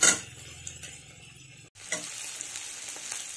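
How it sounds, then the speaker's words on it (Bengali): Prawns with garlic and chilli frying in a pan, a steady close sizzle with stirring scrapes, briefly cut off before resuming. "চিংড়ি মাছ, রসুন, লঙ্কা আরও কিছুক্ষণ ভেজে নেব।"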